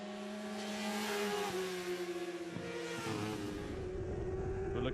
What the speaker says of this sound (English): We're back with Michael Rees in 3rd place now on board the Kawasaki ZX-R 400.